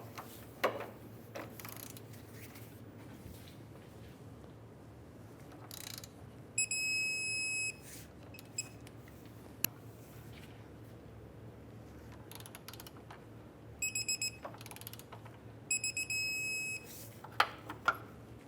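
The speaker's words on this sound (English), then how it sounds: "And now we'll torque each of these to 96 foot-pounds." A torque wrench tightens lower control arm bushing bolts to 96 foot-pounds on a 2002-2007 Chevrolet, giving quiet ratchet clicks and several short bursts of high electronic beeping spaced through a quiet garage.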